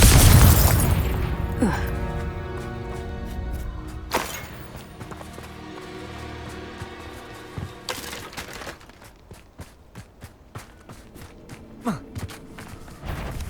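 Confringo spell explosion in the video game Hogwarts Legacy, a loud booming blast at the start that decays into rumble, followed by scattered thuds, impacts and quick rhythmic ticks of combat effects.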